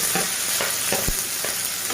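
Tomatoes tipped into a pan of fried onions for a lentil and fish-roe dish, a loud close sizzle broken by repeated stirring scrapes, no talking.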